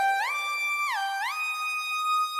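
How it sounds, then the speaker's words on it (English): A Prophet 6 synthesizer lead with glide enabled, its bright, harmonically rich tone sliding smoothly up and down between sustained pitches, playing alone and clearly. "So I put the glide on the Prophet 6."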